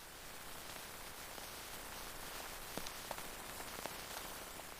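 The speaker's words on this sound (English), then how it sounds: "Wow, it's raining. Look at the rain." Steady rain falls at a campsite as a continuous soft hiss, with a few sharper drops tapping near the end.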